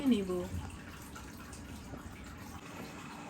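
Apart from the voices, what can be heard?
washing chhana (cheese curd) and draining water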